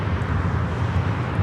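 A Cessna Citation corporate jet passes at LAX airport as a steady, broad engine roar, moderately loud and unbroken, with no talk.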